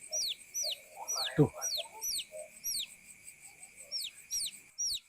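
A chicken clucking at night: faint, short, repeated calls sound at a steady pace against a quiet backdrop, with a voice speaking briefly over them.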